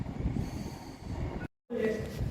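A two-coach train passes through Grantham station with a continuous rumbling roar and rail noise, broken by a short gap of near silence before the rumble resumes, close and fairly loud.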